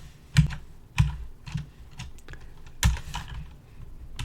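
Close computer keyboard typing of random text, a steady patter of key clicks with a few heavier strokes standing out, no talking.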